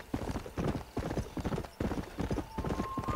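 Horse hooves clip-clopping in the video game Red Dead Redemption, a quick, steady galloping rhythm that continues throughout, loud and close.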